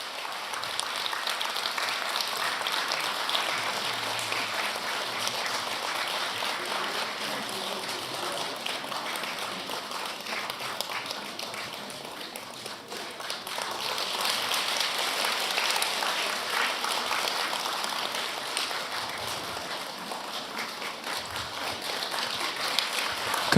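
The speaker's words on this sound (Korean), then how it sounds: "큰 박수 부탁드립니다." An audience claps steadily and densely for over twenty seconds at a Buddhist dharma assembly at Jogyesa temple, a sustained wash of applause with a slight dip midway and no talking over it.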